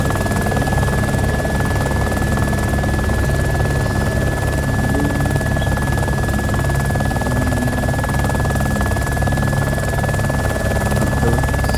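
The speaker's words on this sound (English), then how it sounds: "Helicopter to your left." A helicopter flying overhead in the video game DayZ gives a loud, continuous rotor thrum and engine drone that lasts the whole time, steady and close, with no talking.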